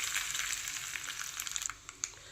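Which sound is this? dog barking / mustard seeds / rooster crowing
mustard seeds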